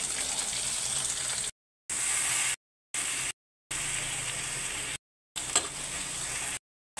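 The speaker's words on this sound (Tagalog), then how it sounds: "Gigisa na tayo ng ating kangkong." Kangkong (water spinach) sautéing in a pan, a close steady hiss and sizzle broken by several abrupt silent gaps, with a faint tick of stirring.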